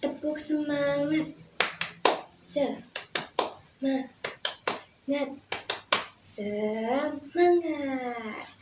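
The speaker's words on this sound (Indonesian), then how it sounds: "ibu akan mengajak anak-anak ibu semua untuk tepuk semangat" Children in a classroom perform a rhythmic spirit clap, sharp hand claps in patterned bursts alternating with chanted group voices, led by a teacher.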